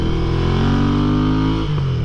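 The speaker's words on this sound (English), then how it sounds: "Like you hit the throttle, let off quickly, and you can hear a little pop." Royal Enfield Interceptor 650 twin with a modified exhaust and intake revs loudly and steadily up close, then drops off as the throttle closes, with a brief pop near the end as it decelerates.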